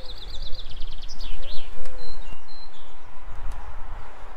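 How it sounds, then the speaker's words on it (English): Small birds chirp and twitter in quick high trills at the Bourton-on-the-Water bird attraction in the Cotswolds, close and clear over a steady outdoor rumble. "I guess they've got birds here"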